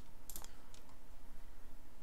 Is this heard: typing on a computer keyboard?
yes